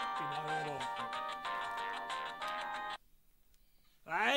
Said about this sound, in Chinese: 电话响喎。